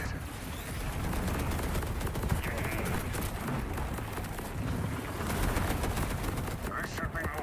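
Dense, continuous video game gunfire with overlapping rapid shots and bursts at a steady loud level throughout, like a magazine being emptied in sustained automatic fire.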